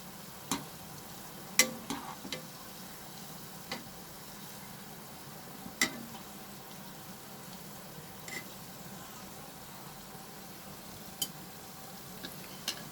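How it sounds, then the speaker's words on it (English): Soybean chunks frying over a medium flame, a quiet steady crackle with scattered sharp pops and ticks throughout, no talk. "So over medium flame, I'm going to fry them till they become nice and golden in color."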